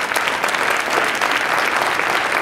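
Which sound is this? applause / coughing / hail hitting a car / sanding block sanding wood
applause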